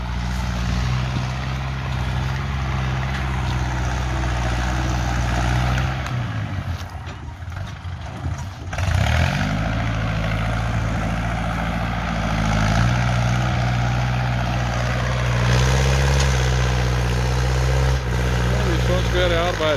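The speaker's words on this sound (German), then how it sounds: "Gut, er hat ja Schatten da auf seinem Traktor, aber trotzdem." A tractor engine drones steadily while levelling ground in hot weather, loud and continuous with a brief dip in the middle before picking back up.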